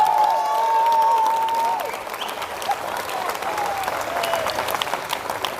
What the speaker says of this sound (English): Big round of applause for Ian and his team.